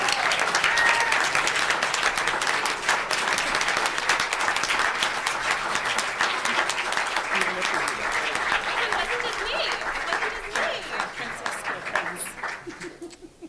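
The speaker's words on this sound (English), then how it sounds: "give him an even more heartfelt round of applause here" An audience at an award presentation for an evidence competition gives a long, sustained round of applause, dense clapping that carries on for over ten seconds before thinning out, with a few faint voices and chuckles mixed in.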